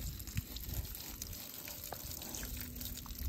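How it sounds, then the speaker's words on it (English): Spring-fed water spills over the rim of a container on an off-grid homestead, making a quiet, continuous trickle and splash with no voices present. "And I came back, and this water is already overflowing."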